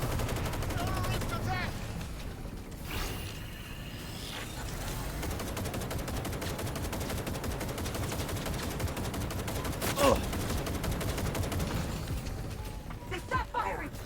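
Sustained gunfire in Cyberpunk 2077 Phantom Liberty, rapid automatic bursts rattling steadily through a tense firefight, with a louder sharp crack near the middle and shouted voices mixed in among the shots.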